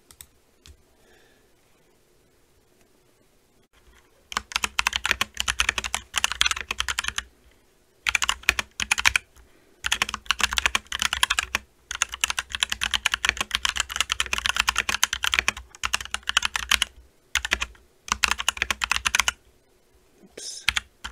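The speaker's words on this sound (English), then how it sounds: "what the keyboard sounds like while I'm typing" Fast bursts of keystrokes on an ROG Falchion ACE keyboard, close and crisp, coming in dense runs separated by short pauses, with no one talking.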